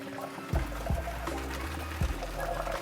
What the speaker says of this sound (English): I'm gonna pour it right into our strainer here.